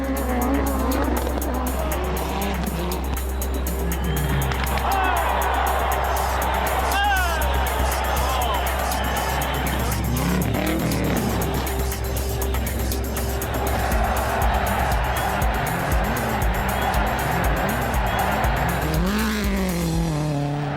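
Three rally cars run together on a super special stage at the 1998 Rally Argentina, engines roaring loud and continuous with revving, gear changes and tire squeals over steady crowd and commentary noise.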